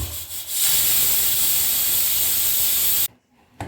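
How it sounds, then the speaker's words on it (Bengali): A pressure cooker whistle blasts a loud, steady hiss of escaping steam while mutton curry cooks on a gas flame, rising after a brief start and holding for about two and a half seconds before cutting off abruptly. "গ্যাসের ফ্লেমটা বাড়িয়ে প্রথমে একটা সিটি দিয়ে নেব"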